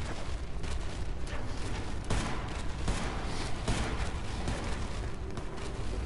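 Pistol and shotgun fire in the dinosaur video game Dinosaurs Don't Drive Racecars: a dense, continuous barrage of loud gunshots and blasts, steady throughout with no pauses and no talking.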